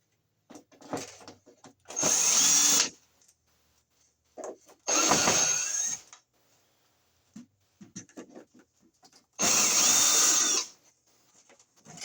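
Three bursts of a power drill spin out screws holding a vanity bar light fixture to a wall, each whir lasting about a second, separated by quieter clicks and handling rattles.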